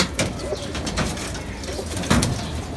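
Indonesian Kray pigeons coo repeatedly at close range, low throaty calls rising and falling amid light rustling.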